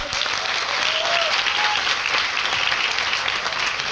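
Loud, steady applause from a crowd at a training seminar, continuous and dense for the whole stretch with no voices on top.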